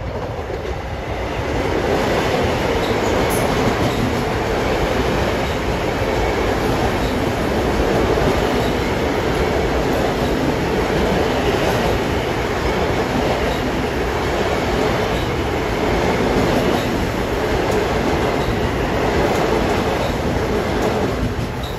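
Continuous loud roar of a Long Island Rail Road commuter train passing Elmont station, wheels clattering over the rails with a steady rhythm and hints of squealing metal, no voices.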